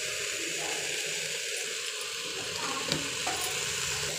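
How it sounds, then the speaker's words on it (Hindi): Water is poured into a pan of potato and bakla sabji, giving a steady, close rush of liquid over a faint sizzle with a couple of small clinks. "अब मैंने इसमें पानी ऐड कर दिया"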